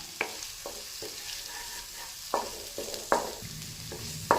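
Tadka masala roasting in a pan for matar paneer, with a low steady sizzle broken by several sharp scraping stirs of a spoon, close and without voices.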